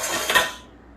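A metal spoon scrapes and clinks against a dish while batter for a Baileys Irish cream cake is mixed, one short close scrape that fades quickly into quiet.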